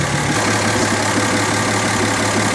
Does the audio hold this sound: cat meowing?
no